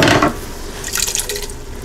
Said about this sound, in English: pour that whole can in there